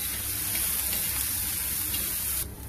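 Grated coconut roasting in oil in a pan gives off a steady, close sizzle that holds evenly before easing slightly at the very end.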